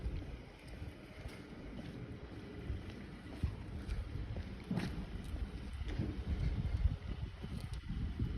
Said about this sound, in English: It's a little windy down here. I'm sure you can hear it.